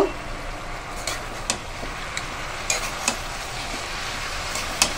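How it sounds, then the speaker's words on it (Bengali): Cabbage and a catla fish head being stirred in a pan, with a steady low sizzle and a few sharp clicks of a utensil scraping the pan. "কাতলা মাছের মাথা সমেত সব কিছু দিয়ে এইবার আমি নাড়াচাড়া করে নেব।"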